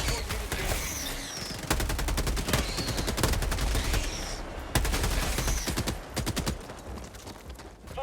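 Rapid bursts of automatic gunfire from the video game Helldivers 2, loud, dense volleys broken by short gaps, with sharp single cracks mixed in and a rumbling backdrop; no one speaks.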